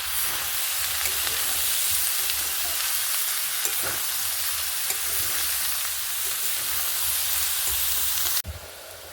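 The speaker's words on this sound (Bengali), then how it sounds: "ভালো করে একটু কষাবো।" Dried fish (shutki) sautéing in a hot pan makes a loud, unbroken hissing sizzle with faint stirring clicks, heard close up and without speech, until it cuts off abruptly near the end.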